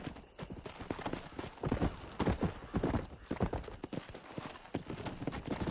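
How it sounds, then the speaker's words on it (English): Horses gallop in the Red Dead Redemption video game, rapid clip-clop hoofbeats passing close with a brief whinny, loud and rhythmic over quiet background. "Where are these horses going?"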